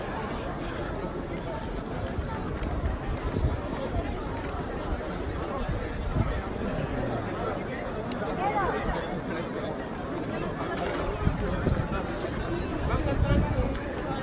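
Crowd of tourists waiting for the astronomical clock in Prague, a steady murmur of many voices and general chatter all around, with no single voice standing out.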